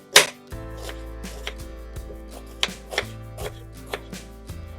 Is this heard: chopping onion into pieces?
yes